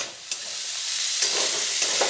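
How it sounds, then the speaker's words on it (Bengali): Cauliflower fries with salt and turmeric in a hot pan, giving a steady close sizzle and hiss broken by a few soft stirring scrapes, with no voices. "স্বাদ মতো নুন, হলুদ গুঁড়ো দিয়ে ফুলকপিগুলো খুব ভালোভাবে লাল লাল করে ভেজে নেব।"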